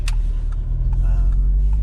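An Audi TTS engine revs under acceleration in comfort mode, a deep, steady rumble heard from inside the car with brief clicks and a voice speaking over it.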